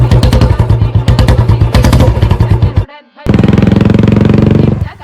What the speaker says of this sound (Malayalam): അപ്പൊ ആ പോയാണ് ബുള്ളറ്റ്